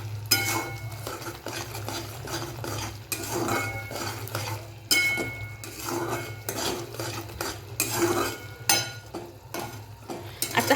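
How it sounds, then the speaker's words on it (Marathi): A spoon scrapes and clanks against a pan as homemade spice masala and ingredients for aloo palak are stirred together, repeated close metallic strokes with a faint sizzle underneath and no speech. "त्यानंतर हे सगळे साहित्य आपल्याला एकत्र करून घ्यायचे आहेत"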